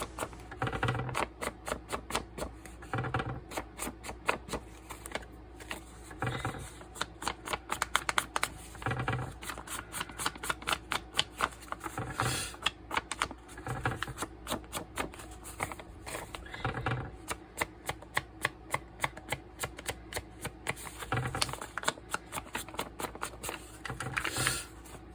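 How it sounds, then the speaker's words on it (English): Journal paper is crinkled and wrinkled by hand in a long run of close, crisp crackling bursts, irregular but continuous, with occasional quieter gaps. "Wrinkling the paper."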